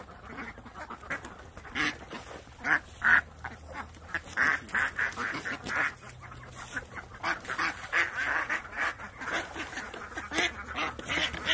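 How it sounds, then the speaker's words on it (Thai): A flock of young laying ducks, delivered in Phra Nakhon Si Ayutthaya, quacks repeatedly in short overlapping bursts, fairly close and moderately loud, with no talk. "เป็ดสาวพร้อมไข่ครับ"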